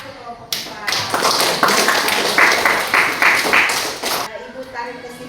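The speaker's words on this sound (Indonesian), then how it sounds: "Tepuk tangan untuk kelompok 4." Students in a classroom clap for a group, a loose burst of hand claps and taps starting after a brief pause, bunching into rhythmic slaps before stopping, with voices around.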